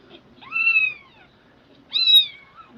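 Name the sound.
kittens squealing and meowing in a played video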